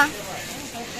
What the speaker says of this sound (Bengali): ভাজা হচ্ছে এখানে